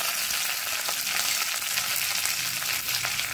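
Mustard seeds and curry leaves frying in hot oil, with crushed peppercorns, give a steady, dense sizzle and crackle that stays loud and even throughout with no voices.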